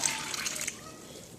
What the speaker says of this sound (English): I'm going to add my 2 cups of warm water